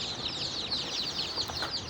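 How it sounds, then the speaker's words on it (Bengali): Tiger chicken chicks on a farm, a dense, continuous chorus of high chirping and peeping from many birds close by. "দীর্ঘদিন অপেক্ষা করার পর আবারও খামারে চলে আসলো নতুন টাইগার মুরগির বাচ্চা"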